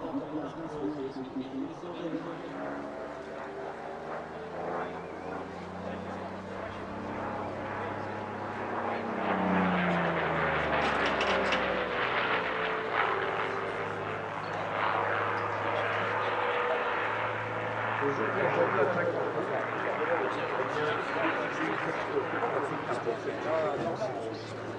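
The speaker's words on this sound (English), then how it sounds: "the P-40E broke off for a solo display" A World War II P-40E fighter with a piston engine flies a solo airshow display, its propeller drone rising and falling in pitch as it sweeps past, loudest midway, with voices faintly underneath.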